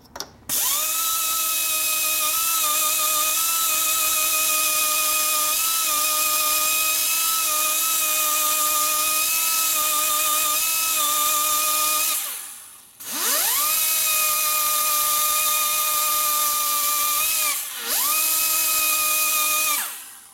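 A high-pitched rotary grinder whines steadily while porting a 2005 Harley-Davidson Sportster XL 1200 cylinder head, running loud and continuous, dipping briefly twice as the tool lifts off the metal and spins back up.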